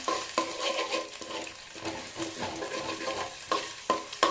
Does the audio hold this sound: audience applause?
no